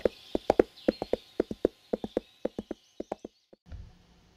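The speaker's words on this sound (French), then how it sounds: "sauta ensuite sur le cheval pour repartir au galop en direction du palais" A horse's hooves clop in a quick, steady rhythm, close and distinct, with about twenty sharp beats that stop abruptly before a low rumble, with no talking.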